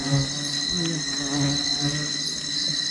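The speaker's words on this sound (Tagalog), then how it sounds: "ang daming bubuyog o patyukan" A dense, steady insect buzz drones throughout, many wings humming together at close range with no pauses.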